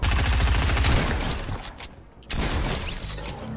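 Dense rapid gunfire from the Fortnite video game, a loud rattling burst of shots that thins out midway, then another sustained volley resumes, with no talking.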